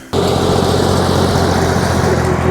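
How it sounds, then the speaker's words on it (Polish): A tractor engine drones loudly and steadily, heard from an electric scooter on a road behind the tractor, with a continuous low rumble that starts abruptly and holds for the whole stretch. "Nie będę jechał za traktorem, bo się robi mało przyjemnie."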